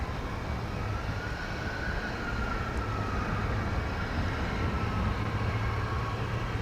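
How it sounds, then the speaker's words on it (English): An American Airlines Airbus A320 airliner bound for San Antonio at DFW Airport gives off a steady, broad jet roar at moderate distance, with a faint whine sliding through the mix, sustained throughout with no talk. "an A320 on its way to San Antonio"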